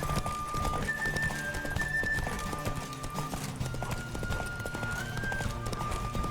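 Rapid, near hoofbeats from a galloping horse in The Witcher 3 pound on without pause, a brief neigh rising over held melodic notes in the game score.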